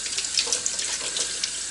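Tap water pours steadily into a container meant for float-testing eggs. The hissing, splashing flow is close and constant throughout.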